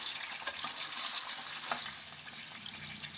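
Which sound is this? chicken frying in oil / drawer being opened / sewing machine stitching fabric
chicken frying in oil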